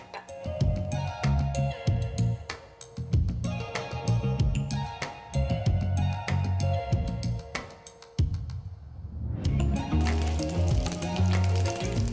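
Frozen pot stickers sizzle and crackle steadily in a hot pan, a loud continuous frying hiss with brief dips as dumplings are placed, then a sharp surge of spitting near the end.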